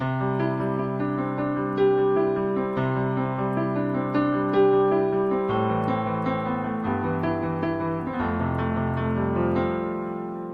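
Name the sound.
stretch-tuned altered piano, mellow tone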